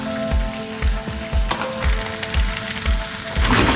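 Onions and garlic fry in a pan while mussels are cooked, giving a steady close sizzle broken by rhythmic knocks and scrapes of stirring.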